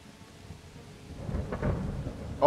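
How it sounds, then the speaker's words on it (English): Rain and thunder in the medieval role-playing game Kingdom Come: Deliverance, a low rumble swelling over steady rainfall, with a brief louder burst at the very end. "Okay, the rain is kind of noisy."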